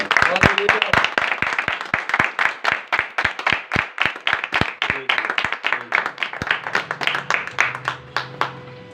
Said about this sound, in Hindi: उस खुदा के लिए शुक्रगुजारी की जोरदार तालियां बजाओ।